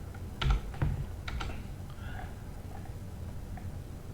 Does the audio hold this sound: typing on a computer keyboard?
yes